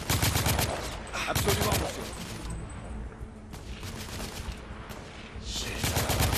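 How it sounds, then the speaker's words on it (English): Loud volleys of gunfire crackle in bursts during a gun battle in The Order 1886, with short lulls between clusters of shots. "Alright, first gun battle."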